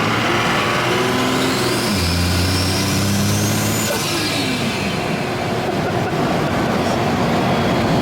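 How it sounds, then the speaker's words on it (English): A twin turbo Cummins diesel truck drives under light throttle, a steady loud engine drone with turbos spooling as a rising then falling whistle over the rumble of the road. "You can hear those turbos."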